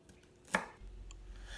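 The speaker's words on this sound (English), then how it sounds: "one thing I like to do is trim off the bottoms if they're showing a little brown" A knife makes a single crisp cut, trimming the browned bottom of a Brussels sprout. It is a quiet, close chop in an otherwise still kitchen.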